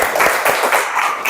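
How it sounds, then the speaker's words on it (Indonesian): Classroom applause for a student: a short burst of many hands clapping in quick uneven rhythm, close and fairly loud, lasting just over a second. "Tepuk tangan untuk si"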